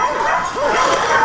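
Hunting dogs bark and yelp excitedly during a wild boar hunt in the Camargue, a close, continuous run of overlapping yaps and whines from the pack.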